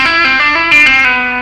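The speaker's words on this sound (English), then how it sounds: "And from there we're going to slide from C down to B." Overdriven electric guitar in a legato rock phrase, sliding from C down to B among smooth hammered and pulled notes, a short connected run with sustained distorted tone, loud and close, no voice.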